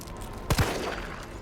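Two quick gunshots in the Resident Evil 3 remake demo, close together and fairly faint, followed by quiet ambient background.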